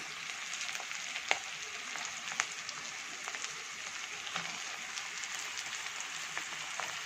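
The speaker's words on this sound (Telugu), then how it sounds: "ఆ తర్వాత మనం ఈ కట్ చేసి పెట్టుకున్న ఆలుని కూడా దీంట్లో వేసేద్దాం" Diced potatoes hit hot oil in a pan for aloo bonda, giving a steady, moderately loud sizzling hiss with crackling pops throughout and no talking.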